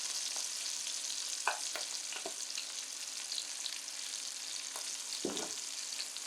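Shrimp and vegetables sizzling steadily in a hot pan, a close, even hiss with a few scrapes and stirs of a utensil.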